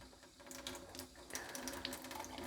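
Water runs from the top hose of a Kangen Water machine, a faint steady trickling stream with small splashes, close by and without voices.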